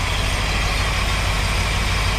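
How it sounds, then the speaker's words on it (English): A Mopar 383 V8 with a swapped-in four-barrel carburetor idles roughly, a steady, loud, close low rumble that holds without a break and has no talk over it. "you listen to the engine"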